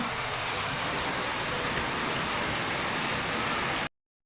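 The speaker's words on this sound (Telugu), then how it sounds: "వాన చూడండి ఇప్పుడు ఎక్కువ అనమాట బాగా పడుతుంది వాన" Heavy rain pours steadily outside a village home, a dense continuous hiss of water on surfaces with no pauses, loud and close throughout before cutting off abruptly.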